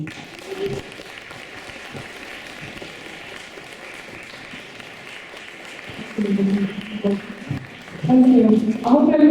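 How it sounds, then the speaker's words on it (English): An audience at an International Women's Day community event at Deaf Village Ireland applauds in a steady, sustained patter, with voices speaking over the clapping toward the end. "can we all give Nikki another round of applause, please"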